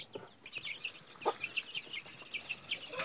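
Chickens on a farm cluck and chirp softly near their feed, repeated short calls in an irregular rhythm over quiet background, no talking.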